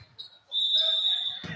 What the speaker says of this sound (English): And we got a whistle, and we have got a timeout.